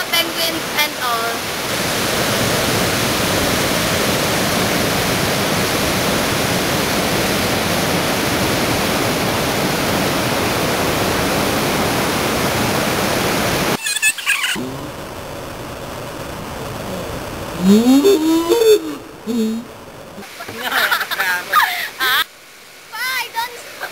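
Niagara Falls roars as a loud, continuous wash of rushing water for most of the stretch. It then drops away into quieter moments with people talking and a voice.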